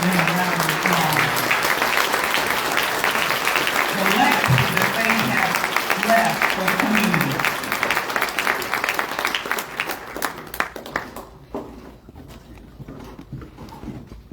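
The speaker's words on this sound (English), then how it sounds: "Let's really give them a round of applause." Audience applause rises at an awards ceremony honoring a couple called to the stage, dense clapping throughout while someone speaks over it on a microphone, the applause thinning and fading toward the end.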